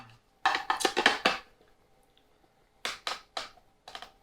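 A hand-cranked rotary cheese grater shreds cheese in short bursts of scraping, rattling turns, one cluster of several quick grinds, a pause, then a few more close, crisp strokes.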